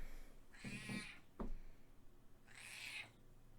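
A cat meows twice indoors, a drawn-out call followed by a second one after a short gap, fairly clear against a quiet room with no talking.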